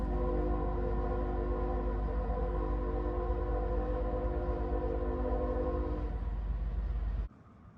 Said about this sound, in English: A sound which can only indicate one thing. It's train time!